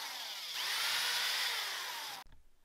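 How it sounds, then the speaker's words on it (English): A drill spins up and pre-drills a hole in wood steadily for under two seconds at close range, its whine dropping slightly before it cuts off abruptly. "So I'm gonna go ahead and pre-drill this hole."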